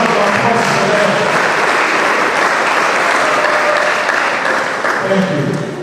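Full, sustained clapping from a seated conference crowd recognizing its planning committee at a law and society conference, a thick even roar of hands that eases slightly near the end.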